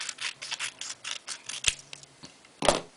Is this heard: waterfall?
no